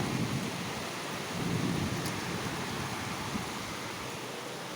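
Heavy rain pours during a thunderstorm over a house in Bangalore, steady dense roar of rain and gusting wind with rumbling thunder underneath, loud and continuous throughout, no voices.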